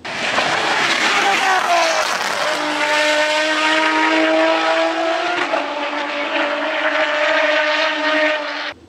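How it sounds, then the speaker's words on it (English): Ferrari 599 V12 fitted with six-into-one headers, revving loud and close on a dyno, the tone climbing, dropping back and rising again in sustained high-pitched wails. "We really want this car to sound unique and special in the way Kels does."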